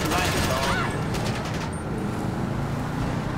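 Rapid bursts of gunfire in Grand Theft Auto V crackle loudly at first, then give way to a rumbling engine-like drone.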